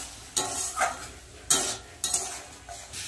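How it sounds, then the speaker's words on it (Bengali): Spice paste for vegetarian ghugni is stirred and sautéed in a pan, with a spoon scraping and clinking in irregular strokes over a soft sizzle, close and fairly loud with no talk. "তো এখানে মশলা কষানো হচ্ছে।"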